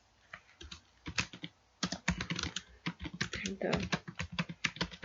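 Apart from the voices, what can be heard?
typing on a computer keyboard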